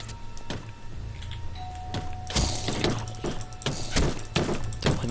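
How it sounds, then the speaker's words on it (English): A home doorbell chimes with a sustained electronic tone over the clatter, thumps and effects of Minecraft multiplayer gameplay, with no talking. "Don't mind my doorbell."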